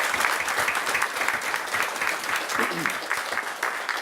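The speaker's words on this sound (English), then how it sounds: "give Shannon Buell a big round of applause for getting that" A tribal council meeting room fills with a round of applause, a fairly loud, evenly textured stretch of clapping from the gathered crowd with a few voices murmuring through it.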